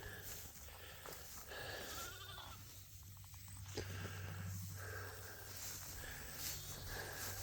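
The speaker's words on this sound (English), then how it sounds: "The sheep are making lots of noise over here." Flock of sheep with ewes and lambs bleating to each other outdoors, faint overlapping calls from several animals at some distance, over a low steady background hum.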